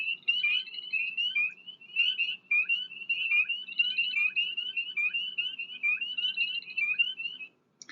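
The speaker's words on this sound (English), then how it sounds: "That's a spring peeper." Spring peepers calling outdoors, a run of high, thin repeated peeps and short trills overlapping from several frogs, clear and fairly close over a quiet low hum.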